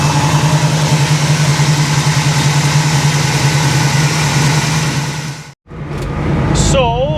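A 1971 Chevy Nova idles at a slightly raised speed of about 1,000 RPM, its loud, steady rumble pulsing evenly, briefly cut off before resuming, with a faint whistle-like tone near the end.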